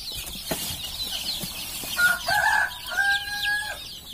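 Chickens cluck and chatter close by in a coop floored with rice husk bedding, with a rooster's drawn-out crow rising over the flock's steady murmur.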